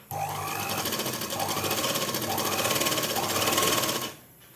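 Steady, close sewing machine whir stitching churidar pant fabric, running continuously and loudly with a rhythmic mechanical pulse before stopping abruptly near the end.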